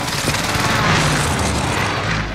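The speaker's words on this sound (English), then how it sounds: "Enemy precision airstrike, stay alert." Heavy booming explosions from a precision airstrike in Call of Duty Warzone, a dense, continuous rumble of blasts with crackling gunfire-like bursts throughout, loud and close.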